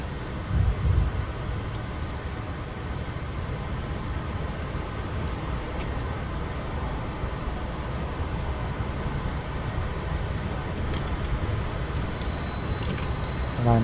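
An F-14 jet sits hooked to a carrier catapult in the DCS flight simulator game, its engines producing a loud, continuous roar that holds steady throughout without pause.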